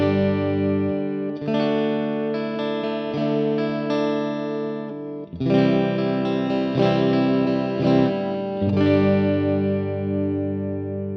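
An Ibanez RG970 electric guitar through an effects chain, played with its humbucker split alongside the single coil, strummed chords ringing out with chorus and reverb, two phrases separated by a brief pause.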